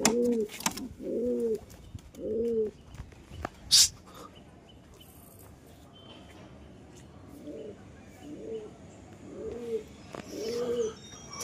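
Pigeons being released to fly give a series of low, rhythmic coos, a few calls in the opening seconds and more toward the end, with a sharp bright sound in between and a faint background.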